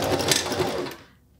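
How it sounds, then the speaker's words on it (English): A sewing machine running steadily as it stitches zigzag stitches and a back stitch along the edge of a bachelorette party veil, loud and close for about a second before stopping abruptly. "So stitch a few zigzag stitches to start, and then create a back stitch."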